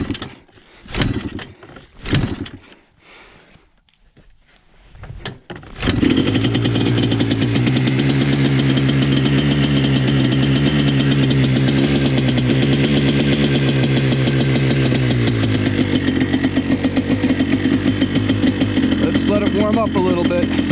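A Yamaha ATV, just fixed after a leaking carburetor, starts with a few rough sputters and handling noises, then settles into a loud, steady close-up idle with a knocking rhythm; a person talks briefly beforehand.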